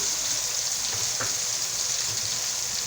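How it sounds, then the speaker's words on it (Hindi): Ingredients for a spaghetti sauce fry in a pan with a steady, close hiss and soft crackle, and a few faint pops break in now and then. "तकरीबन 2 मिनट मुझे हो गए इसको भूनते हुए"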